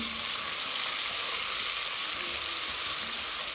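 Chopped onion sautés over medium heat in a pan for palak gosht, giving a steady, close, even sizzle and frying hiss with no talk over it.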